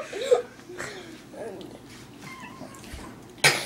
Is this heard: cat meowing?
yes